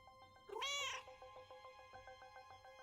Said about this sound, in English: Very well rendered cat.